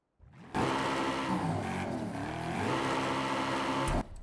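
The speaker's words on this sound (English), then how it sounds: "And of course now we'll do a quick rev check." In Forza Horizon 5, the engine of a Ford F150 Raptor R revs in the game. It roars up abruptly, holds a loud, steady growl with a slight dip and rise in pitch, then cuts off sharply after about three and a half seconds.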